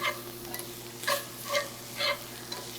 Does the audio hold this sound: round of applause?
no